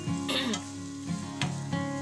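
Vegetables with black pepper fried briefly in a pan for spaghetti give a close, quiet sizzle with a few quick stirring scrapes, over a steady musical tone.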